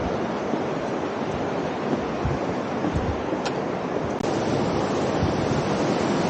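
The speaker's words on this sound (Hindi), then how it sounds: "Look at that waterfall." A waterfall in the Har ki Doon valley roars steadily and loudly, a dense broadband rush of falling water that stays constant throughout with no voices over it.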